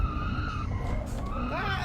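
A car in the racing game Automation spins out with a sustained tire skid squeal and a rising whine over steady engine drone and wind noise, loud and continuous for a couple of seconds.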